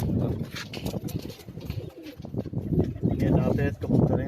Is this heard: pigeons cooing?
yes